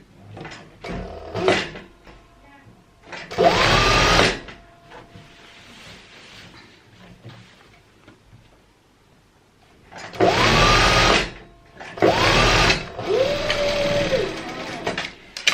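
Sewing machine stitching salwar fabric in short bursts of loud whirring, with quiet handling noise between runs and someone speaking softly at times.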